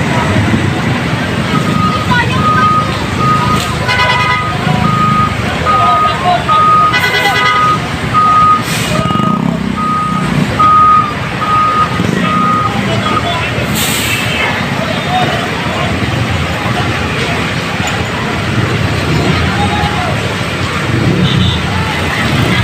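A big DPWH truck reversing during a roadside clearing operation beneath a bridge, its reversing alarm beeping in steady repeated tones over loud engine rumble and traffic noise, with people talking nearby.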